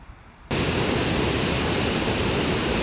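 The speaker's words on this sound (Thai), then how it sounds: "เป็นน้ำตกธรรมชาติ" A natural waterfall in France roars in as a sudden, loud, steady wash of falling water that starts abruptly after a quiet opening and then holds unbroken.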